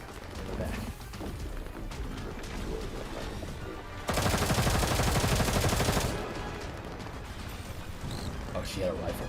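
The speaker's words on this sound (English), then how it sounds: "Oh, she had a rifle." Rifle gunfire from a story battle in the video game GFL2 Exilium, a dense, loud burst of rapid shots lasting about two seconds midway, set against game music and effects.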